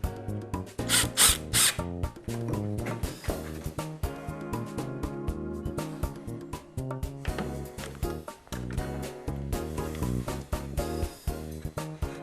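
A screw is driven into a nailer on a hot dog cart being built, a power drill whirring in bursts of rising and falling pitch with brief pauses between runs.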